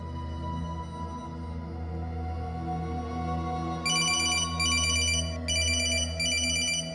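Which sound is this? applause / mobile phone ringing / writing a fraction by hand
mobile phone ringing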